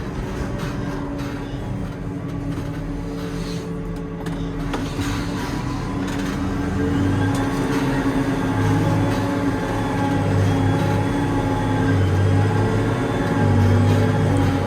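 A forage harvester engine runs in a silage field, a loud, steady mechanical rumble and drone that swells gradually toward the end, heard at close range with no voices.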